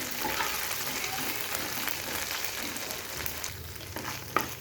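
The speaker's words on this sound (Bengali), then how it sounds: "আমি এখানে আদা রসুনের পেস্ট দিয়ে দিলাম। দিয়ে কিন্তু ভালোভাবে একটু মশলাটাকে ভেজে নিতে হবে" Ginger-garlic paste and spices fry in hot oil in a pan, giving a steady, close sizzle with faint scraping from stirring and one sharp utensil tap near the end.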